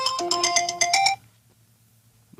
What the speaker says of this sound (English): Regular phone call coming through.